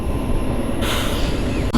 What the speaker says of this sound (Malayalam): അതാ ട്രെയിൻ പോകുന്ന കാണാം